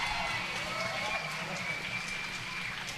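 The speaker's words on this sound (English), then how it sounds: "there's a very warm round of applause by this very knowledgeable Derby crowd" Crowd at a roller derby grand final gives warm, sustained applause, a steady wash of clapping with skate rumble underneath while a commentator talks over it.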